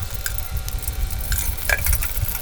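Ghee sizzles in a pan as it heats for a daal mash masala, a steady crackling hiss with a few small metallic clinks.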